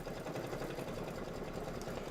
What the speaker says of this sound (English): this is going to be a minute of stitching